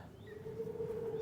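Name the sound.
birds chirping in a golf video game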